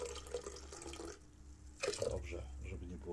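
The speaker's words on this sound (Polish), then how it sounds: "umyjemy pojemnik." Water runs from a tap to rinse the container of a Lidlomix food processor while cooking stuffed cabbage, a soft splashing flow heard close by under a talking voice.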